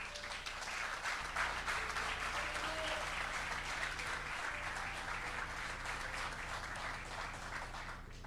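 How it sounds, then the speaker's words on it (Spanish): A church congregation applauds during a sermon, with steady, dense clapping that fills the whole stretch at moderate volume and fades slightly toward the end. "Yo te invito a que le des un aplauso al Señor."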